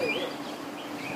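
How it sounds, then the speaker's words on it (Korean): Birds chirping in Jericho after crossing the desert, a short stretch of faint, high tweets and calls over a soft, steady background with no talk. "이 새소리 들리세요?"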